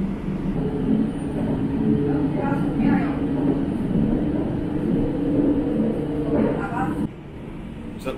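A Shanghai Metro Line 16 train runs non-stop through a station, heard from inside as a steady loud rumble and rolling wheel noise with faint rattles. A voice talks over it before the level drops slightly near the end.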